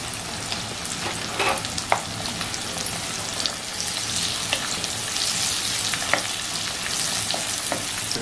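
Bell pepper and black pepper stir-fry over medium heat in a hot pan, a dense, continuous sizzle broken by occasional scrapes and tosses of the spatula, close and loud throughout.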